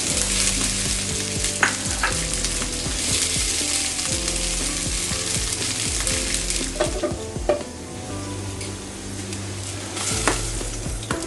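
Garlic and dried chillies frying in a pan, a loud continuous sizzle with occasional scrapes and clinks of a spoon stirring, close and steady throughout with no talking.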